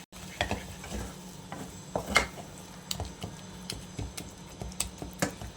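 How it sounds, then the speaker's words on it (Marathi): A spoon stirs mango juice into modak dough, giving a steady run of light, close ticking clicks and scrapes against the vessel. "हा एक कप मी आंब्याचा रस घातलेला आहे आणि तो सुद्धा यामध्ये छान असा मिक्स करून घेऊया"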